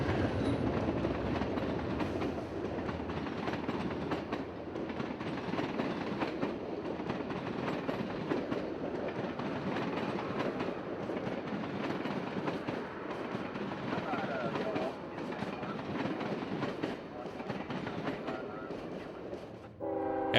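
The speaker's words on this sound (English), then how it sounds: "Next thing was Amtrak 97, the Silver Meteor southbound to Miami." Amtrak 97, the Silver Meteor, rolls southbound toward Miami past the old Beaver Street Tower site in Jacksonville, a long steady roar of wheels and rail clatter heard from an overpass, with a horn blast near the end.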